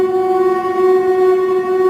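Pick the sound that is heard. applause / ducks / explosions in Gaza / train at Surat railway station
train at Surat railway station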